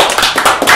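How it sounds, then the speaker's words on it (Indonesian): A few people clapping hands at the start of a football podcast, close and loud, with quick uneven claps in a brief burst. "Mari kita tepuk tangan semua."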